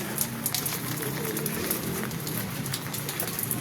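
Steady rain falls outdoors during a funeral, a dense, continuous hiss of drops with occasional sharper splashes nearby, and no talk over it.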